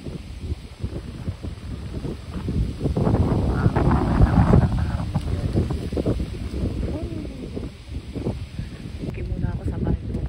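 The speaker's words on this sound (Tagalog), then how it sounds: "At sobrang lakas ng hangin." Strong gusting wind buffets the microphone in low rumbling surges, with a person speaking intermittently beneath it.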